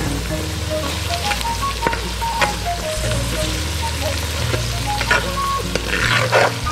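Dried red chillies fry in a clay pot for a mutton fry, crackling and sizzling steadily up close with occasional stirring scrapes; no voice is heard.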